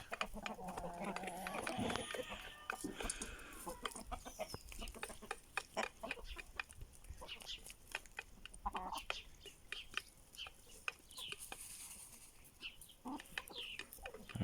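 Chickens, including Aseel roosters and hens, cluck and call around a farmyard while eating organic scraps, with scattered faint clucks and pecking sounds and someone speaking nearby.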